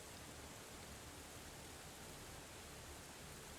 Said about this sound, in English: yelled out so my voice could be heard over the rain